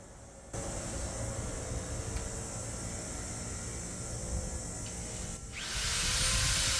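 A power drill boring a pilot hole, a steady whining hum that holds for several seconds, then a brief dip and a louder, rougher surge as the bit bites, close and moderately loud with no talk.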